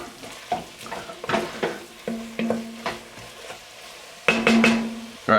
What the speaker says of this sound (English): we're just going to let that roux cook just a touch before we add our liquid to it